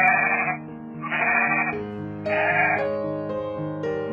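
An Angora goat bleats in several drawn-out, wavering calls, loud and close, one after another with short gaps and no other sounds.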